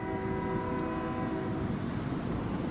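A train passes on a BNSF main line, a loud steady rumble with sustained horn-like tones held throughout, close and continuous.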